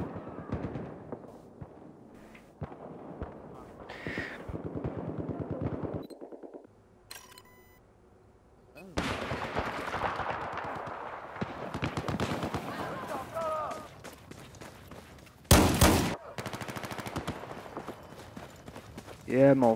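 Bursts of light machine gun fire in Battlefield 4 mixed with other battlefield noise, loud rattling volleys broken by gaps, with someone talking over parts of the action.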